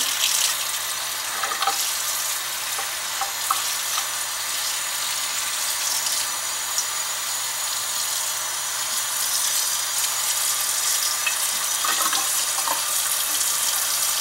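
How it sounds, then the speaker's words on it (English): Dyed variegated yarn in a large colander is rinsed under a running kitchen tap, a steady, close, continuous rush of water lasting throughout with no talking. "Now I'm going to rinse the yarn."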